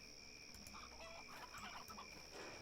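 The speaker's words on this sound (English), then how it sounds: "Uninjured chickens." Chickens in the game Neverwinter Nights clucking softly behind a steady electronic hum and tones, with faint scattered calls blending into the game's ambient background.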